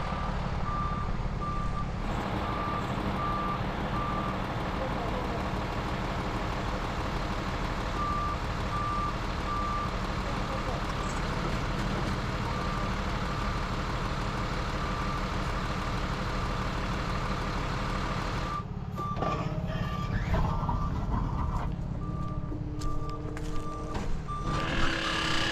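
A wheel-lift tow truck backs up with a steady series of reversing beeps over its loud, rumbling idling diesel engine, the beeping intermittent across a long stretch.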